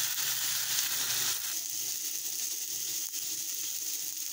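An Angus beef Bubba Burger patty sizzles while cooking, a steady, close hiss of frying fat that runs without a break, with no voices.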